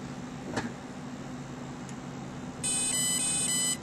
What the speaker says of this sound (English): The minute we hear the 4-tone programming mode, we got to go to low stick before the next beeps